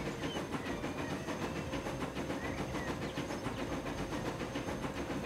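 An electric passenger train in a Transport Fever rail game runs steadily along the tracks with continuous rolling rumble, rhythmic clickety-clack over rail joints and a soft hiss, all at an even level with no talk.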